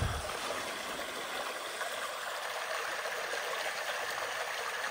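A small creek runs steadily, a gentle continuous trickle with a soft broadband hiss throughout, fairly close and unbroken.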